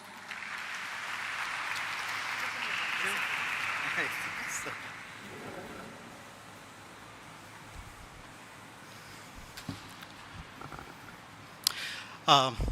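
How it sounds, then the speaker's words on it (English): A listing-ceremony audience applauds for about five seconds, a moderate wash of clapping that fades out, leaving quiet room noise with a few faint knocks and thumps near the end. "Can we please have a huge round of applause?"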